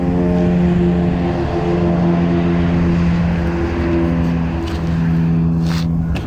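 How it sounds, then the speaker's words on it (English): Aircraft and traffic noise outdoors, a loud, steady droning engine hum with strong sustained low tones and passing rumble, filling the whole stretch with no voices. "noisy everything, even aircrafts."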